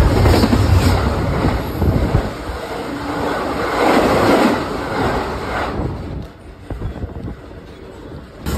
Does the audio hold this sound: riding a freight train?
yes